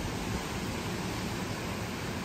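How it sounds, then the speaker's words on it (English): Strong hurricane wind from Hurricane Ian sweeps through Orlando, a steady, dense roar with no breaks or voices, loud and unbroken for the whole stretch. "7 p.m. update. Very windy."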